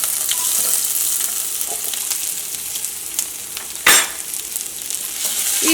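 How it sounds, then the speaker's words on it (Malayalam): Ginger and garlic dropped into hot oil, a dense close crackling sizzle with a sharp burst of spitting midway, steady and loud, no speech. "ഇനി ഇതിലേക്ക് ഇഞ്ചിയും വെളുത്തുള്ളിയും ചേർക്കാം"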